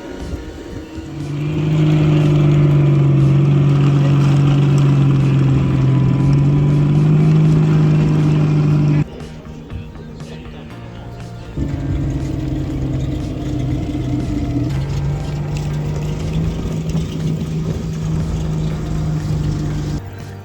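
Model tanks being started and run at a visitors' day at the P7 armored regiment, a steady droning engine that cuts out briefly around the middle, then resumes at a slightly different pitch, loud and close, no speech.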